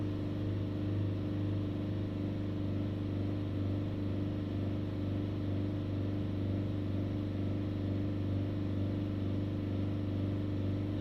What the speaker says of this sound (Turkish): Tekrar 30 bine kadar gaz verelim.